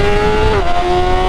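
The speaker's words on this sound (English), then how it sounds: "Look at that, clutch is downshifting and auto blip upshifting." A BMW S1000RR motorcycle engine is heard up close, a loud steady drone whose pitch drops in a quick step partway through as an auto-blipped downshift, with cold tires.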